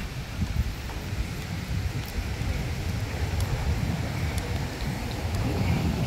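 Steady wind rushes and buffets the microphone with a low rumble in a large park in London's Camden area, continuous throughout, with no voices.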